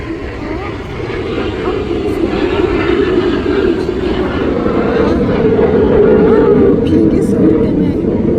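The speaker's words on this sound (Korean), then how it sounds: "비행기 소리 때문에" A propeller airplane passes overhead at a flower nursery during a heat wave, its steady droning roar swelling gradually as someone talks over it.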